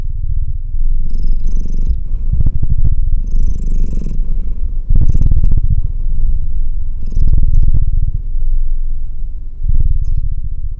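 A loud, close cat purr rumbles steadily throughout, its low vibration swelling and easing with each breath, with no voices present.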